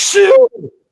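A single sharp, loud sneeze close up, followed by a short trailing breathy sound.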